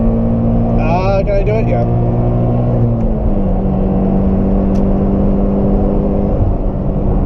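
A Scion FR-S sports car pulls through traffic with a loud, steady engine drone and road roar heard from inside the cabin. The pitch shifts as it accelerates, and people briefly talk over it near the start.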